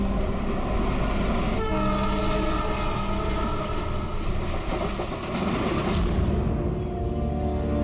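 A train rolls along the rails with a continuous rumbling clatter, and a long, loud horn sounds over it for several seconds before cutting off.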